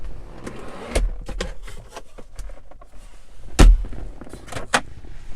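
A series of clicks and clunks from a 2015 Chrysler 200 interior as the glove box latch is worked and the lid swings open, no talking.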